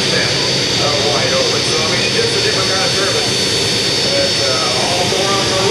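A modified tractor's engine roars steadily at an unlimited modified pulling event, loud and continuous, with an announcer's voice over the top.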